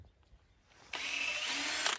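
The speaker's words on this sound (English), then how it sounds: "So first of all, you drill." A power drill bores holes into a log for growing shiitake mushrooms, its motor kicking in sharply after faint handling noises and whining loudly and steadily up close.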